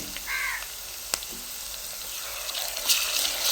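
Ginger onion paste goes into browned onions frying for a mutton curry. There is a soft, steady sizzle with a brief metallic clink, a short tonal squeak near the start and a burst of hissing toward the end.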